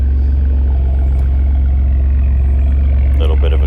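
A 2021 Ford F-150 with the 3.5 EcoBoost and Corsa exhaust idles after a cold start, a loud steady low drone close to the tailpipe, with a voice talking over it and faint clicks near the end.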